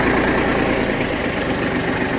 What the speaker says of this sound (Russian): Трактор запускается, работает хорошо, без каких-либо нареканий.